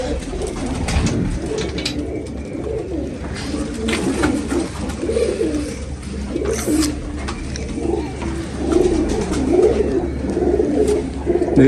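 A pigeon coos repeatedly at close range in low, throaty, rolling phrases, with wing flutters and clattering movement mixed in around it.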